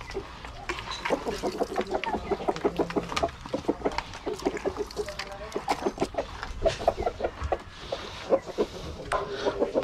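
Rhode Island chicken chicks, hungry and waiting for feed, peep and cheep in a steady, busy chorus of short repeated calls from close by, with light clucking and a few bumps in the background.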